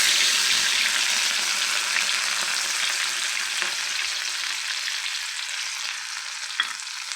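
Ginger garlic paste sizzles hard in a pan with curry leaves at an outdoor village campsite, a dense, constant frying hiss with soft stirring scrapes near the end.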